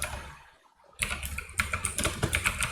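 Rapid typing on a computer keyboard while writing NextJS TypeScript code, a steady run of close, crisp keystrokes after a brief lull, without speech.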